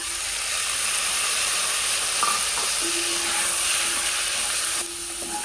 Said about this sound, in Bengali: চিংড়ি মাছ হালকা একটু সতে করবো